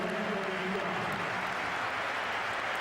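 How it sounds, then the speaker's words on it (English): Crowd applause in a football stadium during a 2003-04 Chelsea versus Tottenham match, a steady broad wash of clapping from the stands throughout, with a brief voice early on. "Applause from he who must be obeyed."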